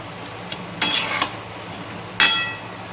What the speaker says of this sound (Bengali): একটা নাড়িয়ে নেবো ওপর নিচ করে।